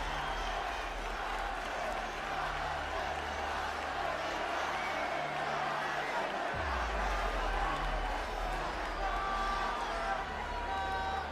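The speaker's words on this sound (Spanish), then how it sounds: "Concepción me da un fuerte aplauso por ambos freestylers." A large crowd at a national freestyle rap battle final in Concepción, Chile applauds and cheers for both freestylers, a steady wash of clapping and crowd noise over a low hum that holds for about eleven seconds.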